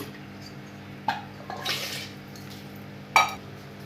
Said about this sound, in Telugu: దానికి కూడా నీళ్ళు యాడ్ చేసేస్తున్నాను